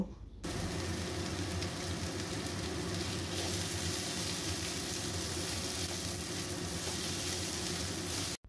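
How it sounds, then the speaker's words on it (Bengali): Chopped onion frying with a pinch of salt in hot oil, giving off a steady, even hiss that starts abruptly and holds without a break. "নুন দিয়ে পেঁয়াজটাকে ভেজে নেব"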